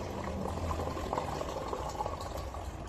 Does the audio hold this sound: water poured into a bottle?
yes